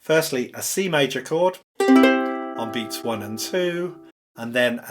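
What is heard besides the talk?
None of the usual background noises is heard.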